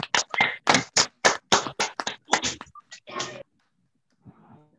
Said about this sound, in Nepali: 1 2 3 आउनुहोस् हामी ताली बजाएर परमेश्वरलाई